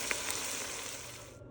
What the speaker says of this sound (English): I'm going to stir this up a little bit now